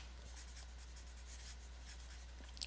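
A pen writes out an answer with soft, continuous scratching strokes, quiet and close over a low steady hum.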